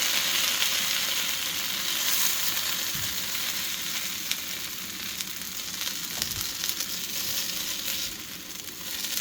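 Shredded hash browns sizzle steadily in a hot frying pan after being flipped, a dense, continuous crackle at close range with a few soft knocks from the spatula and no talking.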